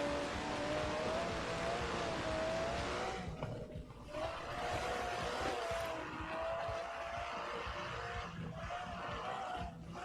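An Aston Martin DB11 with a 5.2-litre twin-turbo V12 revs and accelerates in the Forza Horizon 4 racing game, giving a steady, fairly quiet engine roar with brief dips.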